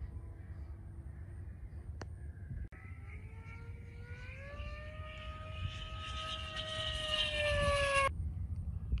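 An E-flite V1200 RC model airplane on its maiden flight under cloud cover: a whining electric motor rises steadily in pitch and loudness as it passes, over a low background rumble, then cuts off sharply.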